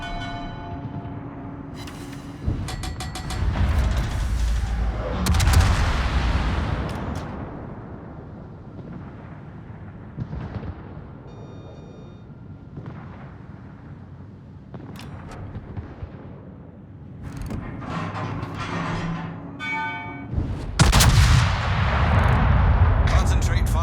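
Warship artillery in World of Warships, with the Ohio firing during a naval station defense battle: heavy booming salvos at the start, middle and end over continuous game rumble, mixed with bell-like chimes and occasional voice lines.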